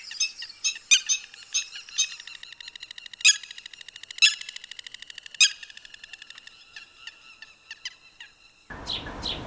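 A lark calls near its nest during breeding season, giving a long series of close, sharp chirps and trilled notes in quick, uneven bursts, with a short burst of other noise at the very end.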